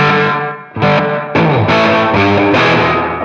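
Electric guitar played through a Line 6 Catalyst 100 amp with reverb on, a few distorted chords struck one after another with ringing sustain and a reverb tail between them.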